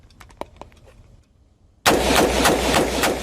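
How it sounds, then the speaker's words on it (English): Several loud, close gunshots from a rifle fired by an army general crack in rapid succession after a short quiet stretch with faint handling sounds. "I'm going to fire about 5 shots"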